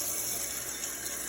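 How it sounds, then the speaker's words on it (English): Tap water running steadily over a PC bento box, a continuous hissing splash with no breaks, close and fairly loud. "I'm going to turn the water on."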